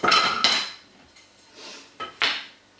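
A hammer taps a few sharp strikes to mark a small hole for hanging a homemade string art heart, with two bright hits at the start, a fainter gap, then two more close knocks near the end.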